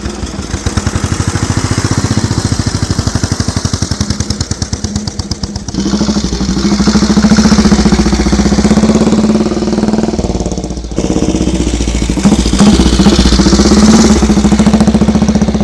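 An old motorbike engine runs close by, loud and steady with a fast, even throb that shifts pitch slightly partway through, with no talking over it.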